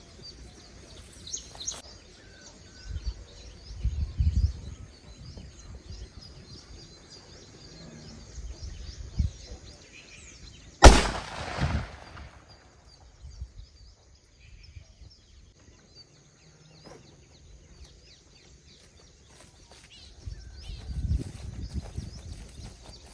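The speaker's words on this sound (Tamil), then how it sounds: "ரெண்டாவதாக விஜய் ஃபோட்டோ போட்டிருக்க தளபதி வெடி" Thalapathi Vijay nattu vedi firecracker bursting outdoors in a single sharp, loud blast midway, surrounded by quiet ambience and scattered bird chirps.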